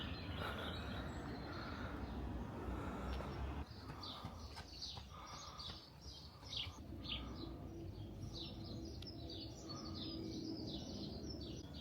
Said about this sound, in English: Honestly, the sound of these birds makes me so happy.